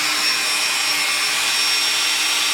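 A Dremel rotary tool running on the thrusters of a plastic 1/537 AMT USS Enterprise NCC-1701-A model gives a steady, loud high-pitched whine with a faint grinding hiss throughout.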